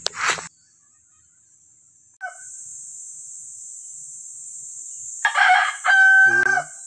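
A rooster crows at a distance, and then a second, nearer and louder crow rings out toward the end over quiet outdoor background hiss.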